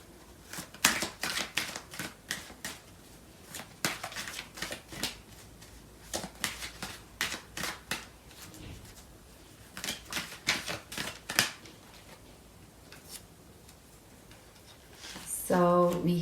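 Tarot cards being shuffled, a run of quick papery riffles and slaps in a steady uneven rhythm, close and fairly loud, with a brighter clatter near the end.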